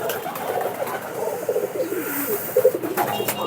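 Pigeons in a pigeon farm coo in soft, low, repeated phrases, several birds close by, over a faint background hiss and occasional light rustles.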